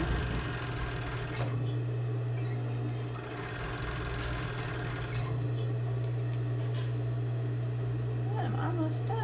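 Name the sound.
sewing machine stitching fabric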